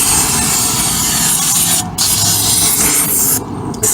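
Brake cleaner hisses from an aerosol can onto a Jeep Cherokee/Liberty KJ 2.8 CRD transmission pan, loud and close in sustained blasts with two brief pauses.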